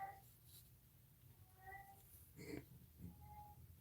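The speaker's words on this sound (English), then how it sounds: "I know she's just gonna keep meowing." A cat in a home craft room gives a few short, faint meows spread over a few seconds, quiet and close, with soft breathing or low voices in the background.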